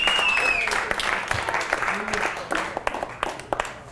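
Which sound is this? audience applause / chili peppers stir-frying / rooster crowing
audience applause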